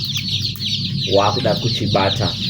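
Day-old chicks raised indoors peep and cheep continuously in a high, busy chorus close by, while a voice speaks over them.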